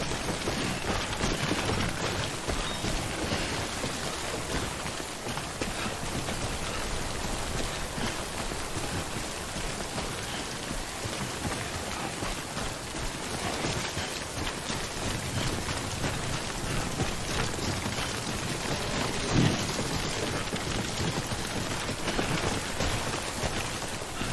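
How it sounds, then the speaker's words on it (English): Steady heavy rain falls without a break as timefall in the Death Stranding video game, a dense, even hiss of drops pattering on surfaces with a faint rumble underneath, with no voices. "Don't stay out in the rain any longer than you have to."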